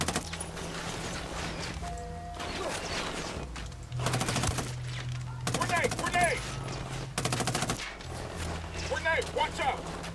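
Bursts of automatic rifle gunfire and explosions in the open-world shooter game Ghost Recon Wildlands, with loud volleys arriving in clusters amid steady game background noise and occasional voices talking.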